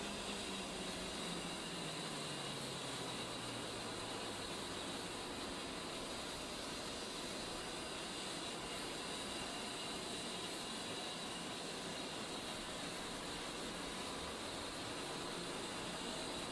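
Left jet engine of an A-10C spooling up in a flight simulator game, a steady broadband roar and whine holding for the whole stretch, with a faint low tone sliding downward early on and no voices.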